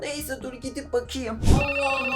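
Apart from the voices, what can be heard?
telephone ringing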